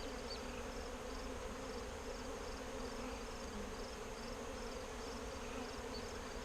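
Honeybees buzzing steadily around opened hive frames full of eggs during a smoked hive inspection, a low continuous hum that stays at an even level throughout.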